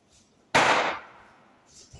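A used coffee puck is knocked out of the portafilter of a De'Longhi La Specialista Maestro EC6885M espresso machine: one sharp, close bang that fades away, then near quiet.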